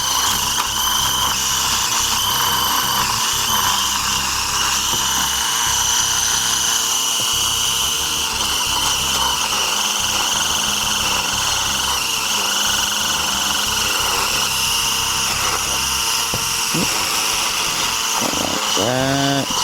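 Power tool fitted with an attachment scrubbing rust off rifle metal during a restoration, a loud, continuous high whine and grind that holds for the whole stretch with small pitch shifts near the end.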